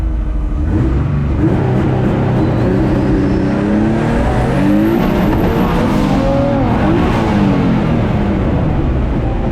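SuicideMX3 car drag racing at a track, a loud continuous engine roar that rises and surges in pitch with repeated revving and acceleration, close and constant throughout with no voices.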